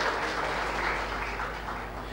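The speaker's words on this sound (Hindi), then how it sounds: "मैं चाहूंगा अतिथियों से एक बार उनका भी जोरदार तालियों के साथ स्वागत किया जाए" An audience at a smart city conference welcomes a guest with applause, a dense, continuous wash of many hands clapping at an even level, with no one speaking over it.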